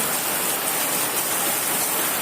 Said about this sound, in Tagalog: Sa sobrang lakas ng ulan.